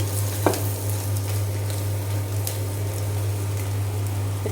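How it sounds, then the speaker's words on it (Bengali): Eggs frying crisply in a hot pan, a loud continuous sizzle close up with a low steady hum beneath and one brief clatter near the start, no talking. "একটু কড়া করেই ভাজি করব।"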